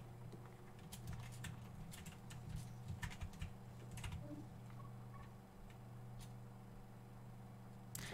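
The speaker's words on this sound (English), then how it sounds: "You're typing again, aren't you?" Computer keyboard typing during Portal 2 co-op play: scattered, uneven key clicks of moderate loudness over a steady low game hum, with no talking.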